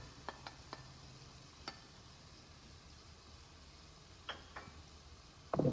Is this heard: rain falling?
no